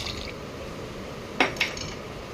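Water poured into a pot of rice, half a kilo of rice in the pot, with a low steady wash and two short metallic clinks of the vessel against the pot.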